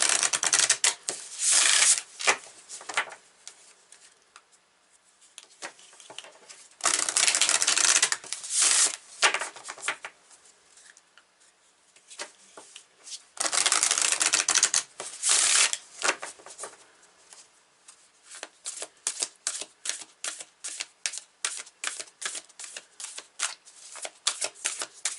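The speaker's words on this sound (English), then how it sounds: "So let's shuffle this one" A deck of tarot cards is shuffled by hand close up, in bursts of rapid riffling and flicking separated by short pauses, with quicker, choppier card sounds toward the end.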